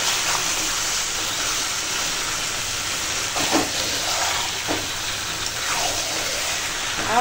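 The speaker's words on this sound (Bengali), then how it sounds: "এখন মাংসটা কষাচ্ছি" Chicken and tomato sauté together in a hot pan, giving a steady, close sizzle with occasional stirring scrapes and no voices.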